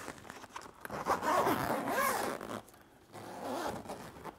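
A backpack zipper being drawn open in a couple of long, rasping pulls, close and clear, with brief pauses between strokes.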